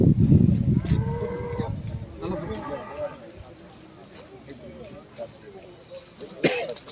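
Cattle at a village veterinary camp near Jagadevi in Krishnagiri district, with a loud close moo at the start and fainter lowing and coughs after, amid outdoor murmur and people talking.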